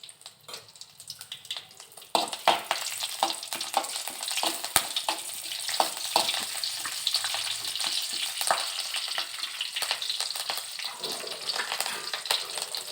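Curry leaves hit hot oil in a pan for lentil chutney, bursting into loud crackling sizzle with sharp pops and spits that continue close up, alone without talk.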